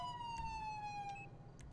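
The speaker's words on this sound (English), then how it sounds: "if I turn my siren on, siren shuts off when I hit the air horn" A wailing electronic police car siren in a video game sweeps up and down continuously, steady and fairly loud with a synthetic, game-like tone.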